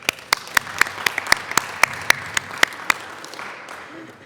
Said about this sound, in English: we all should applaud.